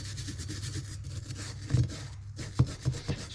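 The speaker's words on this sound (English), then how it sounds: "I am going to use probably just a wire brush" Wire brush rubbing and scraping around the engine valve area of a John Deere STX38 lawn tractor, a steady close rasp with a few sharper scuffs and knocks toward the end.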